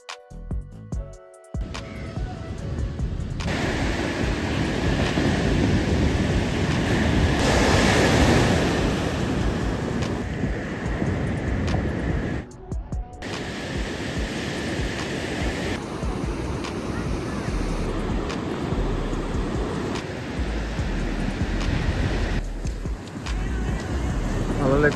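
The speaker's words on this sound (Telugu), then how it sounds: "అలలు ఎక్కువ వస్తున్నాయి, అలలతో పాటు గాలి కూడా వస్తుంది." Ocean waves surging onto the shore at Gokarna beach with strong wind buffeting the microphone, a steady loud roar of surf running throughout with brief dropouts, while people talk over it.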